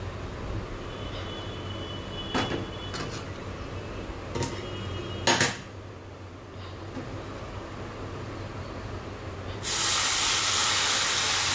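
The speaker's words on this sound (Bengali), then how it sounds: "তো দেখো এই যে গরম জলটা এখন ঢেলে নিচ্ছি" Hot water is poured, first preceded by a few quiet clicks and taps, then a steady, fairly loud rushing hiss that runs to the end.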